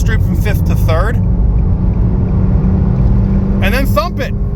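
A Nissan Versa S with a five-speed manual gearbox pulls hard after a downshift from fifth to third, its engine droning loudly and steadily under a voice at the start and end.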